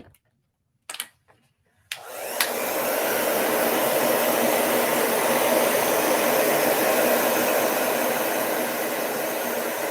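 A hair dryer blows steadily on the fresh paint of a Halloween tombstone prop, switching on after a few soft handling knocks and then running loud and close with a constant whooshing roar.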